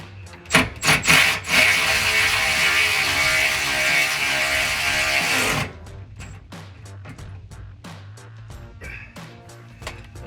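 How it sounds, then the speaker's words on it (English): A ratchet tightens exhaust isolator bolts to the frame of a 2019-2023 Ford Ranger: a dense five-second run of rapid clicking with a few separate clicks before it, then a slower series of distinct clicks, close and fairly loud. "now let's tighten up that"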